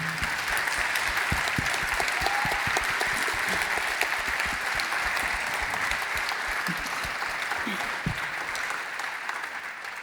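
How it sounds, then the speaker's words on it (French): Sustained audience applause at a sustainability and responsible governance summit in Lyon, a dense steady wash of many hands clapping throughout, loud and continuous with no talk over it. "On peut les applaudir."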